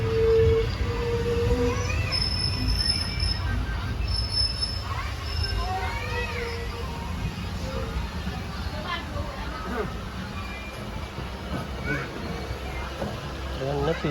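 A passenger train pulls into a station, its wheels squealing and screeching in high rising tones over a steady rumble of rolling carriages, with people talking and a babble of voices throughout.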